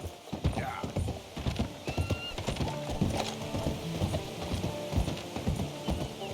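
Horse hooves clip-clop in steady rhythm along a road in Red Dead Redemption 2, close and lively, with creaking tack and a brief whinny mixed in.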